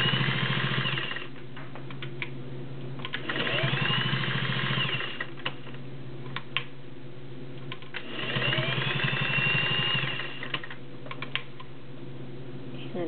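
A Singer Slant-O-Matic 404 straight-stitch sewing machine stitches through five layers of woven upholstery with rubber backing, running in two steady rhythmic bursts of mechanical clatter separated by a quieter pause.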